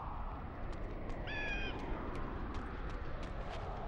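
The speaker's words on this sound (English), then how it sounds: "bird noise sounds familiar." A single bird caws partway through in the Blood Omen 2 video game, a short harsh cry over a steady low ambient hum with a few faint clicks.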